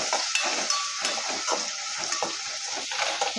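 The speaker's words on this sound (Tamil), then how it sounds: "இப்போ இதில் நம்ம தக்காளியும் சேர்த்து நம்ம வதக்கி எடுத்துக்கலாம்" Tomatoes with salt sauté in a hot pan, giving a steady, fairly loud sizzle with soft, uneven stirring scrapes throughout and no talking.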